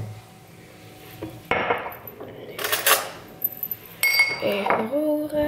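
A spoon clinks and scrapes inside a glass while stirring chocolate powder into a little cold water, with sharp metallic taps and rattling in short bursts close by.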